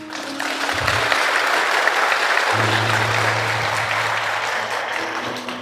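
A church congregation applauds steadily through a sermon, the clapping forming a dense, even wash with low sustained tones beneath it.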